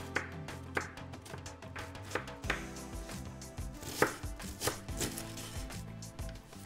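An onion being chopped with a knife on a board, a series of crisp irregular cuts, some quick and some spaced apart, heard close and clearly without any speech.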